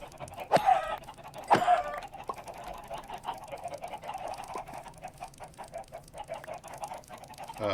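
Chickens clucking in the Minecraft video game, a couple of sharp squawks followed by a stream of soft, rapid clucks close by, with no talking.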